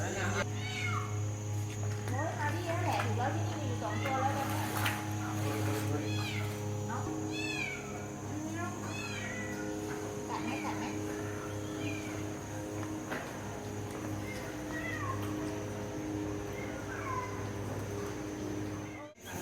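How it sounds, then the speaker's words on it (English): A cat yells with repeated, insistent meows from close by. The cries sound upset and come in a steady series over constant low background noise. People talk now and then underneath. "This cat was yelling at us to let us know that the other cat fell in."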